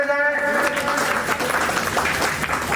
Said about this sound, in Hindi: तालियों से स्वागत करते जाए।